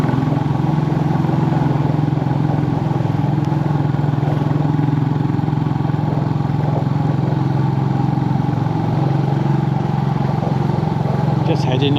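A Royal Enfield Bullet 350 motorcycle is ridden on a sunny day, its engine a steady, close, throbbing drone that stays constant throughout with a rushing wind-like texture layered over it.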